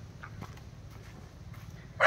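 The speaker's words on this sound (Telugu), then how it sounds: "ఒరే ఇన్ని కుక్కలు ఉన్నాయంట్రా" Several dogs barking in Goa, a few faint scattered yelps and whimpers early on, then a sharp louder bark burst near the end, heard at a moderate distance outdoors with no talking.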